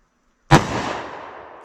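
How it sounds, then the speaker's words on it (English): A single loud .357 Magnum revolver shot with a short barrel, firing 125 grain rounds, cracks sharply and then rings out in a long fading tail, with a faint click near the end. "Now I have a 357 mag. I'm using the short barrel because I think this will put our energy a little bit closer."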